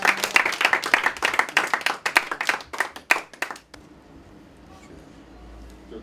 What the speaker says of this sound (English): Applause for our guest speakers.